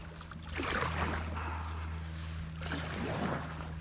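A 14-foot tandem kayak is paddled through a mangrove tunnel in the Everglades. Soft splashes and water swishes come in two bursts over a steady low engine-like hum, faint and close.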